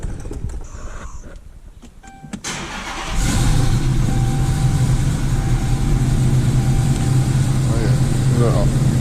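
A Chrysler 300 being fitted with exhaust modifications starts up after a few seconds of quiet clicks, then settles into a loud, steady high idle with a strong low hum, and a voice speaks briefly.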